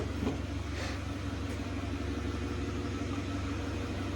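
A forklift engine idles steadily with a constant low, even rumble, close and unbroken throughout, with no voices over it.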